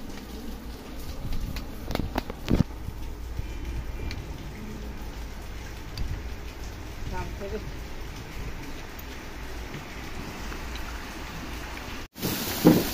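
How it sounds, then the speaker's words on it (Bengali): Heavy rain falls in a steady, dense hiss throughout, with a few louder patters and a brief dropout near the end; someone talks quietly underneath. "গরম গরম পোলাও চালের খিচুড়ি, বাট তারপরে অনেক বৃষ্টি হচ্ছে"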